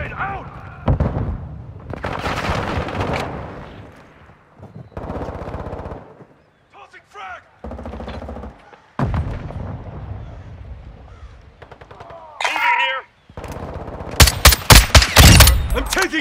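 Bursts of automatic machine gun fire in Call of Duty: Modern Warfare II, loud close rattling volleys separated by short pauses, with a sharp dense salvo at the end and game voices calling out between shots.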